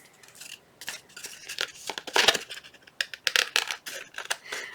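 Scissors snipping off excess paper from a journal page, a series of short crisp cuts in irregular bursts, close and fairly quiet with no talking.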